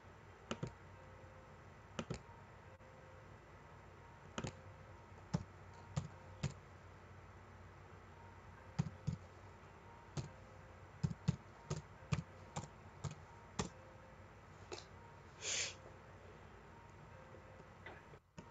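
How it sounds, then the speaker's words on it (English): Someone typing on a computer keyboard during an online speaking session, producing sparse, scattered clicks and short bursts of keystrokes, faint and close against a quiet background with no talk. "Can you please type that in the chat box?"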